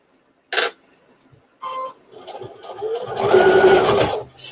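A home sewing machine stitches a fabric bowl mitt past a dart seam: brief clicks and handling first, then a rising, steady mechanical whir of rapid stitching, fairly close.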